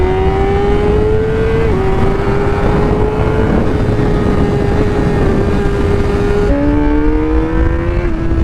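Honda CBR600RR 600cc sport motorcycle engine holding a steady high-revving drone while riding, loud and continuous with small pitch dips at gear changes and a step up in tone near the end.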